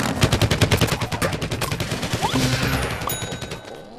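Rapid automatic gunfire fills a Plants vs Zombies: Garden Warfare multiplayer match, a loud, fast rattle of repeated shots that thins out and fades near the end.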